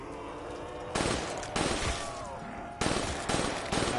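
Rapid gunfire bursts from Call of Duty Zombies, a nighttime round of shooting zombies for headshots, with loud repeated volleys cracking in close succession over a steady game soundscape.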